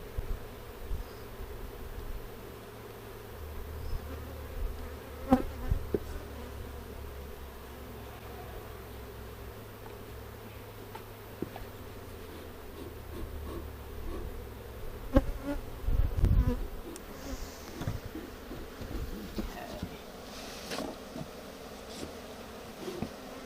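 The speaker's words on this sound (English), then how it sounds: "So many bees, dude." A dense, steady buzz of many honey bees swarming close by during a post-swarm hive inspection, with occasional handling knocks and rustles, no talking.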